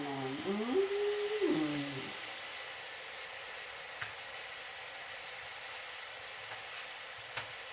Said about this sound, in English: listen to that sizzle going on